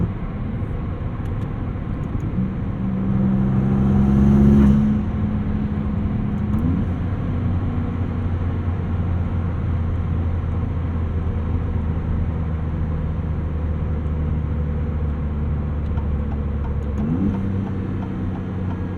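A 2022 Maserati MC20 supercar cruises a backroad with a deep, steady engine drone heard from inside the car, swelling as it accelerates and changing pitch at a couple of gear shifts.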